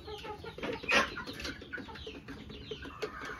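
Backyard hens kept at a home cluck and murmur close by in overlapping, irregular bursts, with one louder squawk near the start; no one speaks.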